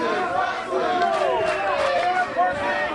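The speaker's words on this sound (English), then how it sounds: "Yeah, listen to the fans chant" Wrestling fans at an NWA Hollywood show chant and shout together, a loud rising and falling crowd roar with voices overlapping.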